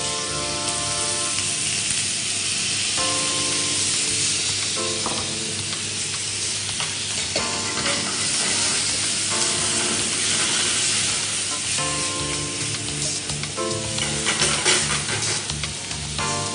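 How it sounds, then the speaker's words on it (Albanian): Onion fries and sizzles in a pan while being stirred, a steady crackling hiss with scraping stir strokes layered over it throughout. "Atëherë do skuqim qepën pak Iva."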